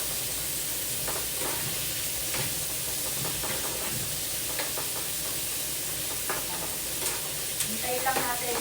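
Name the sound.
bitter gourd (ampalaya) frying and being stirred in a pan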